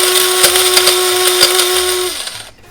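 Dry roasted kala masala being ground to a fine powder in a grinder, a loud steady high whine with a droning hum that runs continuously and cuts off near the end.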